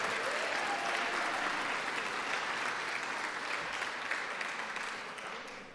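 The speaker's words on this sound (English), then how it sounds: "Can we get a big round of applause for all of our sponsors?" At the 43rd Annual Mayor's Arts Awards ceremony, a large audience applauds the sponsors with a dense, steady wash of clapping that stays full throughout and tapers slightly at the end, no talk over it.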